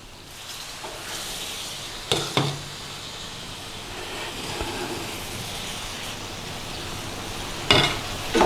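Base gravy for chicken tikka masala cooking in a pan, a steady close sizzle and hiss throughout with a few brief clatters of stirring, no talk.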